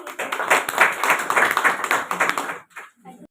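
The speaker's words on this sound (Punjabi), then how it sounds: "ਸਵਾਗਤ ਹੈ ਤੁਹਾਡੇ ਜ਼ੋਰਦਾਰ ਤਾਲੀਆਂ ਦੇ ਨਾਲ" An audience at an International Women's Day gathering in Nawanshahr claps loudly to welcome a guest, with fairly steady applause that fades out near the end.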